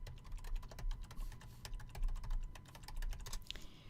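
Keys clatter steadily on a computer keyboard as a search is typed, a close run of quick irregular taps without pause.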